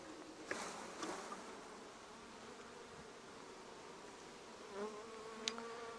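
Honeybees in a hive hum in a soft, continuous drone, with a few faint clicks and brief louder buzzes of single bees passing close.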